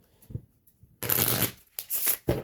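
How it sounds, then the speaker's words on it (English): Playing cards shuffled at an Ultimate Texas Hold'em table in two quick riffle bursts after a soft tap, close and crisp with no talk. "That was a bad shuffle there."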